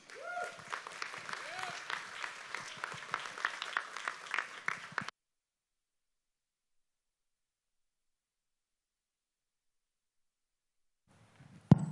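An audience on a cruise ship applauds as two speakers are welcomed onto a stage, with several seconds of dense, fairly close clapping and a few cheers, then an abrupt cut to silence before a voice starts at the end.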